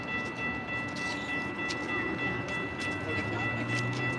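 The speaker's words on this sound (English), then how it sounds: "I'll let you watch the C train station, C train pass." A Calgary CTrain light rail train passes a downtown station with a steady, continuous rumble and hum under outdoor city noise, fairly loud and sustained throughout.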